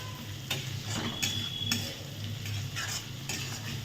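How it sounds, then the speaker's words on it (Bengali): A spoon scrapes and stirs fried potatoes with turmeric in a pan, rhythmic metallic scrapes repeating over a low, steady sizzle of frying. "হলুদ দিয়ে লাড়াচাড়া করে যায়।"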